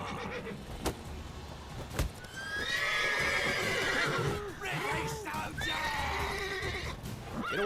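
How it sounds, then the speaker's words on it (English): Horse in the video game The Witcher 3 neighs and whinnies repeatedly with hoof clip-clops, close and loud, amid game combat sounds and a voice talking. "that horse is freaking out"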